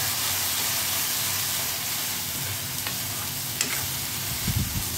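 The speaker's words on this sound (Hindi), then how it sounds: "जब मसाला भून रहा है" Spice masala with cumin powder and garam masala roasts in a pan for a ram phali sabji, giving a steady close sizzle with faint stirring scrapes and no talk.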